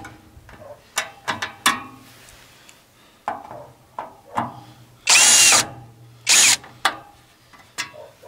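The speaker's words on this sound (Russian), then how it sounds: "Выкручиваем 3 самореза. Рейка у меня крепится на 4 самореза." Power screwdriver backing self-tapping screws out of a wooden batten in a rural home, with short ratcheting clicks, brief motor whirs and two longer loud drilling bursts, close and with no talk.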